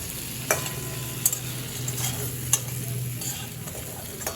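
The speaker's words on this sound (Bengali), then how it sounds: "মাছ ভাজাগুলো তুলে নেওয়ার পর আমার কড়াইতে যেই তেল আছে সেই তেলে এই ঝিঙেগুলো আমি একটু ভেজে বা সাঁতলে নেব।" Ridge gourd sprinkled with a little salt fries in leftover fish-frying oil in a wok, with a continuous close sizzle broken by a few sharp spatula clinks against the metal.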